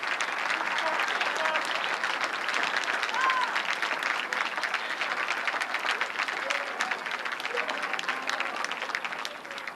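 Sustained audience applause fills a church during a tribute to Dr. King, a dense, steady wash of clapping from a large crowd that holds level for the whole stretch before easing slightly at the end.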